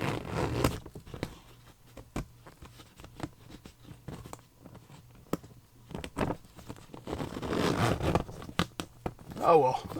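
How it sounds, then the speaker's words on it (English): Repeated short tugs on a stuck zipper of a worm bin bag and scratchy rasps, close by, with fabric rustling and a voice talking intermittently. "This is the second time this has happened with the zipper getting stuck."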